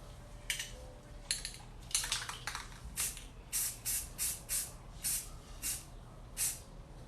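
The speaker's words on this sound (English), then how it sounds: "I'm gonna spray it in pink." Pink spray paint hissing onto a storage jar for a rolling tray set, a string of short aerosol bursts at a steady pace, fairly close but quiet, each puff separated by brief pauses.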